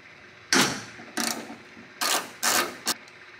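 A ratchet loosens a hood hinge bolt on a Toyota Tacoma, giving five sharp, close bursts of clicking, the last one brief, with quiet gaps between them.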